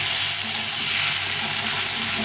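Hot water is poured into a hot pan of thin, fresh fish curry with vegetables, giving a steady, loud sizzling hiss that holds evenly throughout with no talking.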